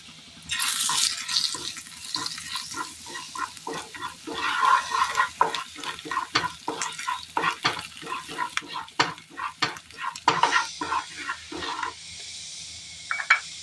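Coriander powder and chili powder frying in hot oil in a pan for a Kerala curry: a close, busy sizzle broken by repeated rhythmic scraping and clattering strokes of a spoon stirring through the pan.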